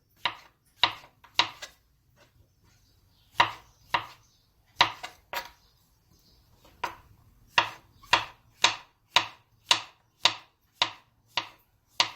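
A knife chops mushrooms on a board for a sauté in a home kitchen, cutting them neither too thin nor too thick: clear, close taps in uneven bursts, then a steady run of about ten evenly spaced strokes.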